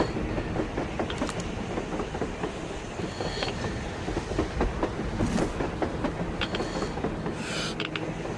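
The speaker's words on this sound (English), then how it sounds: "A train! A damn train on the surface!" A train rolls past in the post-apocalyptic shooter Metro Exodus, a steady rumble of rail cars with rhythmic clickety-clack and occasional hiss and squeal bursts, fairly close, with no speech.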